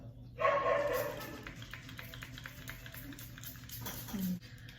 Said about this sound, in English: And then there goes my dog.